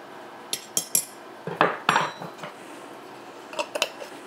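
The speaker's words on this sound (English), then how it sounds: "I just go back in with the butter knife." A butter knife clinks and scrapes against a glass jar while mixing homemade taco seasoning, with several sharp clusters of metallic taps separated by brief pauses, close and fairly quiet.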